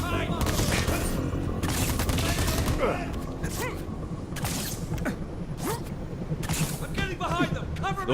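Repeated shotgun blasts in the open-world shooter Crackdown 3, sharp broadband bursts spaced irregularly over a dense layer of game action and effects, with a voice heard at times beneath the gunfire.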